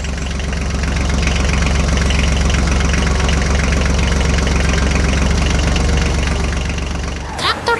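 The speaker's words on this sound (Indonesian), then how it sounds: "Traktor hijau melaju di jalan yang mengarah ke kota, mengangkut hasil panen yang menanti." A green tractor driving along a road hauling harvested crops, its engine producing a loud, steady, close rumble that runs almost the entire time before briefly dropping off at the end.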